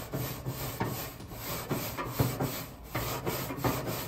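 A Scrub It brush scrapes back and forth over BBQ grill grates in quick, rhythmic rasping strokes, close and fairly quiet, with no voices.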